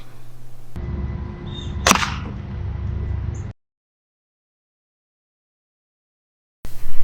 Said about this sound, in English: I'll shoot his hand on the left this time.